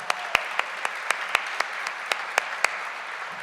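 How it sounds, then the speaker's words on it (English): Applause from a gala audience for students at a school district teacher of the year event, a steady crowd clapping texture punctuated by regular sharp close claps, fairly loud. "How about we give another round of applause for those amazing students?"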